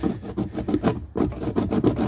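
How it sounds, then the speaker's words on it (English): A flathead screwdriver scraping inside the fuel pickup hole of a Craftsman lawnmower gas tank, making a rapid, rhythmic series of close, raspy strokes with a brief pause midway. "I'm just going to take a flathead screwdriver"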